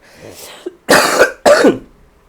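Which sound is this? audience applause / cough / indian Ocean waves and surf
cough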